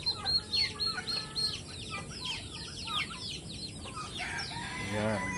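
Mixed Rhode Island chickens cluck and call busily in a free-range yard, with a rooster's crow rising near the end above the flock's steady chatter.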